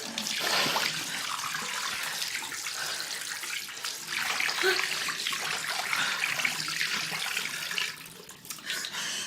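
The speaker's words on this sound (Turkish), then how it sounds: "Gel yıkayalım elini yüzünü gel." Tap water runs steadily into a basin for washing hands and face indoors, a continuous broadband splash and hiss that stays fairly even throughout, easing slightly near the end.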